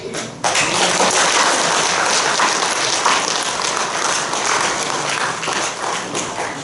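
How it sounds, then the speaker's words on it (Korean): Audience applause of welcome and encouragement at a New Year sermon gathering of retired pastors in a church association auditorium, a dense, sustained clatter of many hands starting abruptly and holding steady throughout. "서로 격려와 환영의 박수를 보내주시기 바랍니다"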